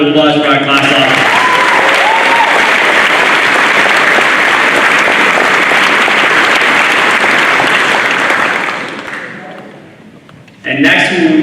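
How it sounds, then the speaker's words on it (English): A crowd at a class night ceremony applauds the class officers with loud, sustained clapping that fades out after about nine seconds, with a voice speaking before and after. "I want a round of applause for our class officers."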